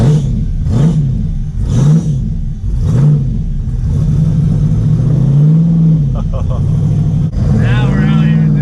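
A $100,000 burnout car's engine revs loudly in three quick rising-and-falling blips, then holds a long swelling rev before dropping and climbing again, close and dominant, with voices talking briefly underneath.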